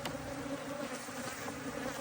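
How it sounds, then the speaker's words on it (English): Honey bees buzz steadily around a hive box at a ranch in Hill County, a dense continuous drone held close to the ear with no talking over it. "because it's had bees living in it, it attracts bees."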